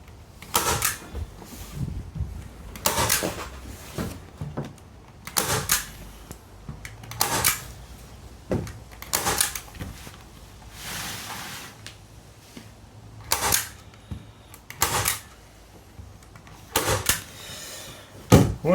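Repeated sharp snapping clacks of a staple gun firing PVC gazebo side panels to timber at irregular intervals, close by, with quiet rustling between shots.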